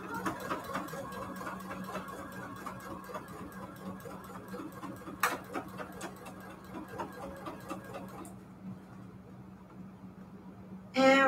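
Sewing machine stitching forward while sewing a mat, a rapid steady rhythmic clatter of the needle close by that slows and stops near the end, followed by a brief clunk.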